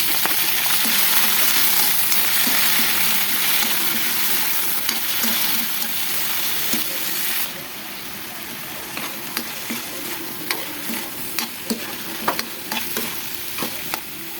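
Shrimp sautéing in a pan with browned garlic: a loud, steady sizzle with stirring scrapes that eases slightly midway, leaving crackles and clicks of the utensil against the pan, with no talking.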